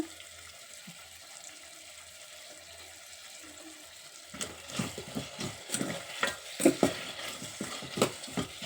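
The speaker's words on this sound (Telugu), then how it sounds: "ఇప్పుడైతే ఒక ఒక స్పూనుడు అల్లం వెల్లుల్లి పేస్ట్ వేస్తున్నా" Ginger garlic paste spooned into a pan of brown rice khichdi, quiet at first, then a run of close stirring scrapes and soft sizzling over a constant hiss.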